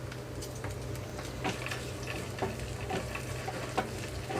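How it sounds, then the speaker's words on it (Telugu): Peanuts, sesame seeds and curry leaves fry together in a pan over a low flame, a steady, close, soft sizzle with light irregular crackles and ticking pops. "లో ఫ్లేమ్లోనే ఉంచి వీటన్నిటిని వేయించుకుంటున్నానండి"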